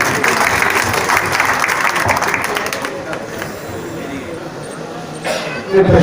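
A crowd applauds a welcome at the opening of a Congress party office in Mustafabad, Delhi: broad, loud clapping that fades after a few seconds into murmuring and a speaking voice, with a brief swell near the end.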